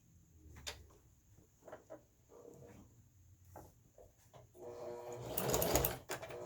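Sewing machine back stitching a placemat, short quiet mechanical bursts at first, then a louder stitching run near the end, heard close and faint.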